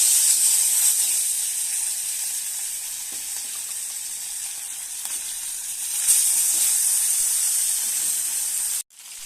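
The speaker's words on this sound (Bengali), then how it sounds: "এবার মাছগুলো আমি আস্তে আস্তে হালকা হালকা ভেজে নেব" Fish pieces fry in hot oil in a wok for a fish kaliya, a loud, steady high hiss of sizzling that surges once and runs on unbroken before cutting off abruptly near the end, with no voices.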